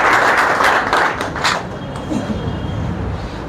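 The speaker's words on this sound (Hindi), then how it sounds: "तो चलिए एक बार थोड़ा उनके लिए ताली बजाइए," An audience at a Bihar police exam preparation talk claps, loud at first and then thinning out into scattered claps over a few seconds.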